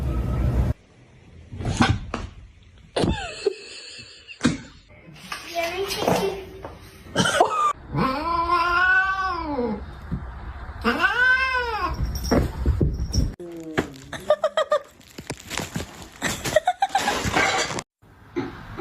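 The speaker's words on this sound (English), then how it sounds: "You don't have to be scared of the kitty." A cat gives long, loud, wavering meows and yowling caterwauls, close and insistent, broken by sharp clatters and knocks, while a person speaks intermittently around the cries.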